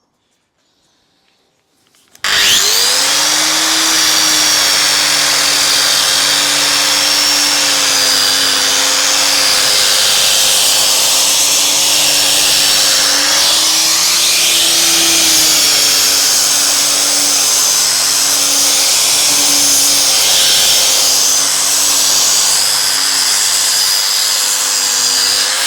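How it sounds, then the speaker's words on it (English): After a moment of quiet, a grinder fitted with a different grit bites into a concrete countertop and runs continuously at close range, a loud sustained whine over a gritty scouring hiss with slight pitch dips as pressure changes. "we'll just go down to a different size grit grinder"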